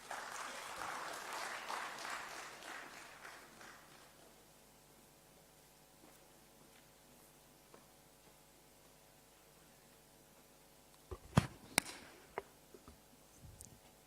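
An audience at an engineering workshop claps briefly for about four seconds, a soft, distant patter that fades into a quiet hall with a low electrical hum and a few sharp knocks near the end.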